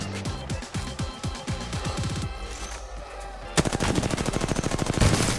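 Rapid bursts of gunfire in the video game Apex Legends, a run of sharp repeated shots, a short pause, then another fast, loud volley up close; no speech.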